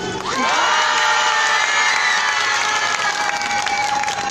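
A large crowd at a street protest rally claps and cheers loudly and continuously, with whoops and shouts rising over the steady applause.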